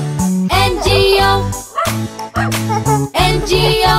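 A dog barks along with a children's nursery-rhyme song about a farmer's dog, rhythmic yips and bow-wows set to the beat over bright music, loud and close.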